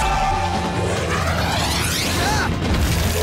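Cartoon cannons firing in an animated action scene, a loud booming blast with sweeping whooshes and crashing effects that stay dense and loud throughout, no talking.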